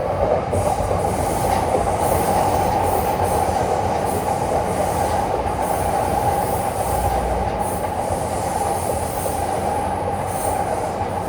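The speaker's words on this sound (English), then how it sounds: "That's our train." A Yamanote Line commuter train in Tokyo rumbles past close by, a steady loud roar of wheels on rails with faint squealing, no voices.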